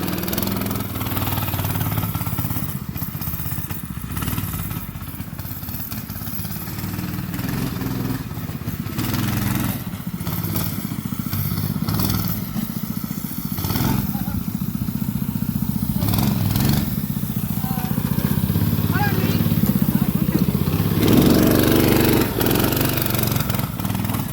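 A Manco engine, likely on a small go-kart or minibike with new brakes, idles close by with a continuous low chugging rumble that holds steady and swells slightly toward the end.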